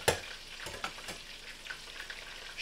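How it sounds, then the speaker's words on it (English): Tilapia fries in hot oil with a quiet, crackling sizzle, faint and steady, broken by a sharp pop at the start and occasional light spatters. "that is sizzling, cooking good, smelling good, just letting it do its thing"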